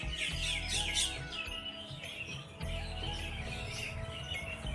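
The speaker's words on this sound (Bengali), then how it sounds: "শুনতে পাচ্ছেন পাখির কিচিমিচি কিচিমিচি ডাক?" Many birds chirp and twitter together in a dense, continuous chorus, fairly loud and close, with overlapping high calls throughout and a low background rumble beneath.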